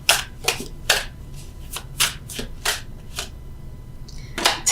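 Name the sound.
tarot cards being shuffled and drawn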